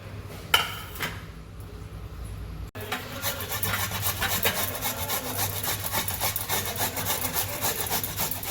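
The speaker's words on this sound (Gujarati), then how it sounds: "હા, આવી રીતના છીણી લેવાના બધા ગાજર." Carrots grated by hand for carrot halwa, a short pause then continuous rhythmic rasping strokes against the grater, fairly close and steady, with no talking.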